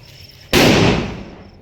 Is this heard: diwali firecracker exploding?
yes